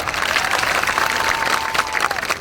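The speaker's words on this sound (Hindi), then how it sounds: "तालियां बजा के स्वागत करिए फिर सबका।" A crowd at a political rally in support of Chaitar Vasava claps in welcome: loud, dense, continuous applause from many people, with a faint crowd murmur beneath it.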